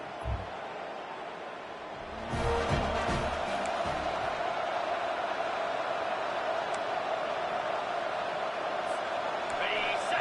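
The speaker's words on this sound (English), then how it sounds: "this home crowd is fired up and ready to make a difference today" Home crowd in the College Football 25 video game roars steadily at a game's start, a broad sustained cheer that swells after the first couple of seconds and holds loud throughout, with brief clatter early on.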